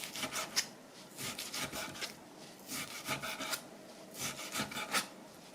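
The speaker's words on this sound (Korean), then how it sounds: "고기를 썰어 보겠습니다" Knife slicing through pork loin on a cutting board, a series of short rhythmic cuts that rasp against the board, close and fairly quiet, with no talking.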